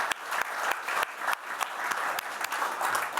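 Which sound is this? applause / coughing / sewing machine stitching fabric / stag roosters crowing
applause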